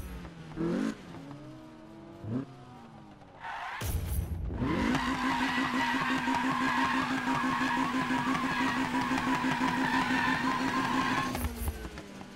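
A Hennessey Venom GT in Need for Speed 2015 does a burnout: a few engine blips, then a loud, sustained tire squeal over a steady revving engine for several seconds, with no talk.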